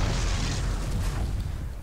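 StarCraft 2 siege tanks shelling a defensive wall in a 2v2 match, with repeated deep booms that merge into a steady, heavy rumble.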